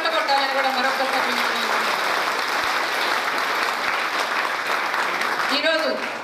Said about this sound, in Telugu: ఆయన వినపడేలాగా అందరూ చప్పట్లు కొట్టాలని